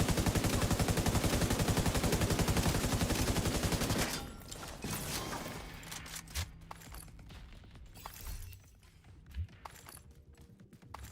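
Video game gunfire in a team shooter: a loud, rapid continuous burst of automatic fire for about four seconds, then scattered single shots and short bursts at varying distances.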